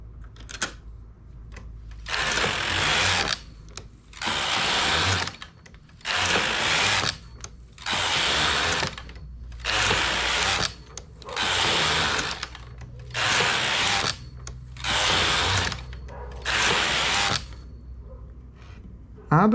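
Hand knitting machine carriage pushed back and forth across the needle bed while knitting a tubular finish, giving a steady series of about eight loud, rasping sliding passes separated by short pauses.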